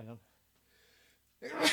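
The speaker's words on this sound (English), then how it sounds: "It's a sneeze." A single sneeze bursts out at the end, preceded by a brief voiced intake and a quiet pause, heard up close during a drum lesson.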